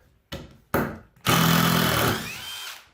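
A power drill backs screws out of wood in a boat-building glue test, with two short bursts followed by a longer, loud whirring run that trails off, up close.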